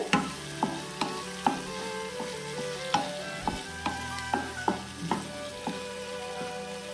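Double beans sautéing in oil after cooking covered, a soft steady sizzle under regular, evenly spaced spoon strokes tapping the pan, close by with no voices.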